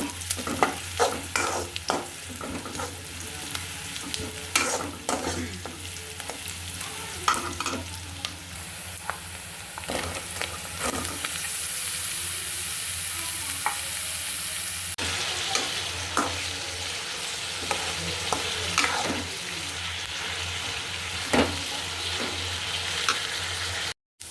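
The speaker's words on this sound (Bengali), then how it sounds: "এখানে আলু পটলটা ভাজা করবো" Potato and pointed gourd fry in a pan, a steady close sizzle broken by repeated sharp scrapes and clatters of a spatula stirring, with no voices throughout.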